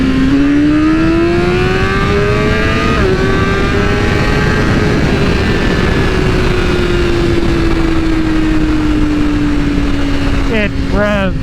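A BMW M1000RR motorcycle engine revs hard under acceleration, a loud rising whine climbing through the gears with a brief shift dip, staying close and continuous before quick rev blips at the end, with wind noise throughout.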